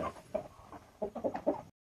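Chickens and roosters cluck in short, uneven bursts nearby on a farm while birds are being weighed and eggs collected, moderately loud and without talk.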